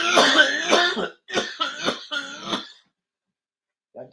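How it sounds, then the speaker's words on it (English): A sick person coughs several times in quick bursts, close and fairly loud, followed by a pause and a faint final sound. "I've been muting to cough, and I forgot to do that one."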